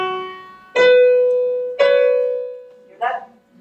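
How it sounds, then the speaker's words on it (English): Piano plays two voices in the right hand from Bach's Well-Tempered Clavier, three clear struck notes in succession, each ringing and slowly decaying, close and alone. "Let me play on the piano."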